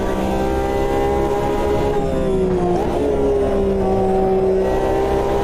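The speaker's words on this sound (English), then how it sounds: "this car is so nice to drive. It sounds amazing as well" A race car engine in the Automobilista 2 racing game, a loud sustained droning whine with strong harmonic tones that dip and climb again as the revs change, steady and continuous throughout.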